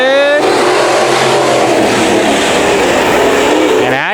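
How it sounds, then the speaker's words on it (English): Race cars roaring as they accelerate at the green flag of a heat race at Bakersfield Speedway, a loud, continuous wall of engine noise with rising revs from the pack. "Here we go, green flag racing."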